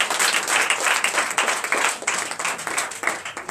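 A church congregation claps and applauds to acclaim Christ during a night of deliverance and prophecy, dense and sustained with no pauses, filling the room at a steady loud level.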